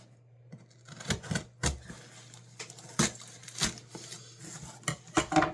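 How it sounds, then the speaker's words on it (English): A diving knife saws and hacks through a cardboard box, producing a quiet run of irregular scrapes, taps and clunks, with a faint low hum underneath. "don't use a diving knife, like I am having to right now"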